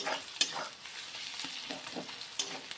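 Dal tarka fries in white oil in a pot, a close, steady sizzle broken by a few sharp stirring scrapes and clinks.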